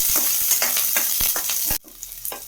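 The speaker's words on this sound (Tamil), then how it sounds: "வெங்காயம் நறுக்கி கொஞ்சம் வதங்கட்டும்" Onions sizzle and crackle in hot oil with stirring scrapes, then the sizzle drops suddenly to a quieter hiss.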